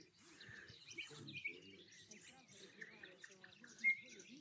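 A nightingale sings near a lake in a Belarusian village on a hot summer day, with varied chirps and trills at moderate distance, fairly faint, and no talk over it.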